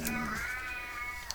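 A pet cat gives one close, drawn-out meow that rises and then trails off, heard alone.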